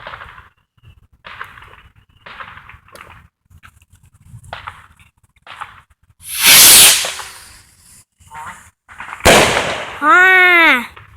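Fireworks and rockets going off outdoors, with two loud hissing bursts and a whistling rocket that rises in pitch, separated by stretches of people talking and some faint pops.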